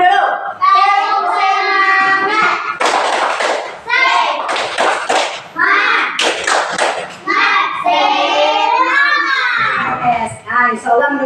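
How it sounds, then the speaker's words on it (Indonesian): A classroom of children in Indonesia performs a rhythmic spirit clap led by their teacher, with bursts of patterned clapping mixed with loud chanting voices. "Ayo, kita tepuk semangat dulu. Tepuk semangat."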